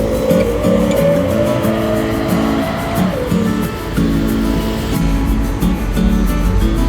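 Dedi Jaya buses roll past in a two-vehicle convoy near Cileungsi, loud engines droning with a falling tone as they pass close by, continuous heavy motor noise without speech.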